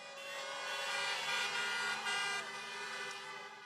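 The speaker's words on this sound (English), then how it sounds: "Let's honk for the outstanding band" Many car horns honking together at an outdoor get-out-the-vote rally in Pittsburgh, a dense, continuous blare of overlapping tones at moderate distance, swelling and easing over several seconds.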